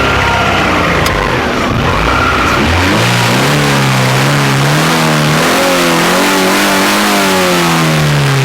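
A car engine at a used-car market revs hard and close, rising and falling in repeated waves of acceleration, loud and continuous with no voices over it.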